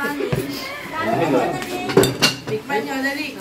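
Dishes and cutlery clink and clatter as a group starts eating a home-cooked meal, with close, busy chinking throughout while people talk over it.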